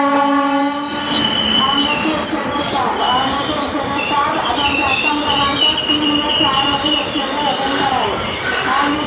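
The 11071 LTT–Ballia Kamayani Express runs through Dombivli station with a loud, continuous rumble and clatter of wagons. A horn blares, wheels squeal, and voices carry faintly on the platform.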